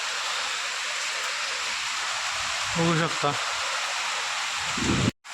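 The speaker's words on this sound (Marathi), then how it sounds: "जोरदार पावसाला सुरुवात झाली मी जसं म्हणलंच होतं" Heavy monsoon rain pours down steadily as a dense, continuous hiss, with a person briefly speaking partway through before the sound cuts off at the end.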